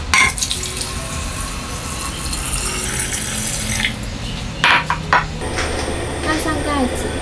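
Water runs steadily into a clay pot holding bones, tea tree mushrooms, soybeans and dried fish for soup, with a gurgling pour and a few clinks of the pot, while someone talks alongside.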